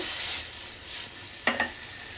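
Paneer cubes frying in a pan for a home-cooked paneer curry, a steady soft sizzle with a couple of brief louder bursts of stirring or tossing near the end, close and without talk.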